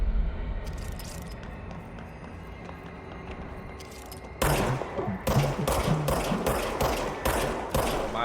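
Rapid bursts of automatic gunfire in the video game Control, starting midway and repeating in sharp clusters over a low ambient drone.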